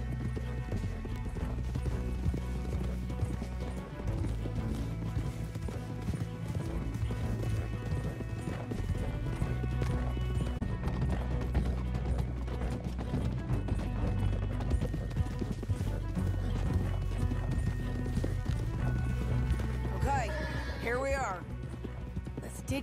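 Horses clip-clop at a gallop through Red Dead Redemption 2, hoofbeats steady and close beneath a loud orchestral score, with a brief whinny near the end.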